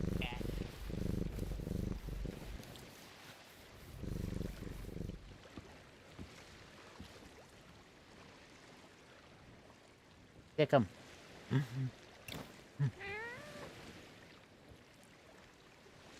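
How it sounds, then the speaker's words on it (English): A pet cat in a video game purring softly for several seconds, followed later by a few short, separate meows, with people talking over parts of it. "say hello to my new cat"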